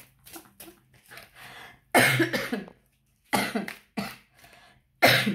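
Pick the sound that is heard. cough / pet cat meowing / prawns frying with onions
cough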